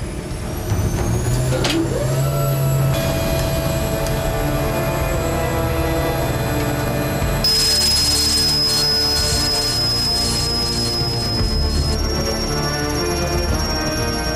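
A Russian heavy-lift helicopter with a 4,500-horsepower engine runs at a mountain cargo-lifting site, giving a loud continuous turbine whine with high tonal lines that shift abruptly partway through.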